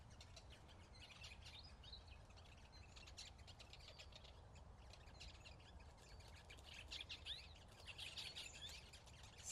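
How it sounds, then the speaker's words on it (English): Rosellas squawk and call in a garden in early autumn, a busy scatter of chirps and harsh calls at moderate distance over steady low background noise, with no talk. "Rosellas, I'd say."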